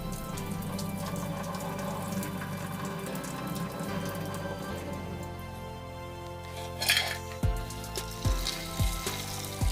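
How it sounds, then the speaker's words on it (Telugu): Nannari roots are washed under running tap water, a continuous close splashing stream, followed by a few clinks and knocks near the end. No one speaks. "ఈ వేర్లని మనం బాగా నీట్గా అయితే కడుక్కోవాలి"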